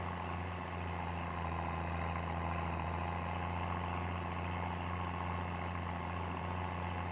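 A tractor engine idles steadily in Farming Simulator 22, with a low, constant rumble and a broadband hum that holds unchanged from start to finish.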